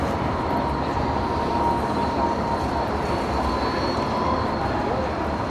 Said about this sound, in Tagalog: Going to Randwick tong train na ito.